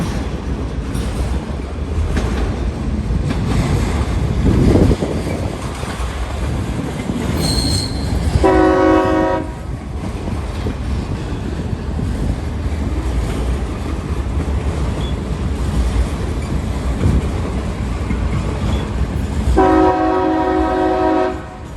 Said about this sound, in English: Check this out, two trains passing.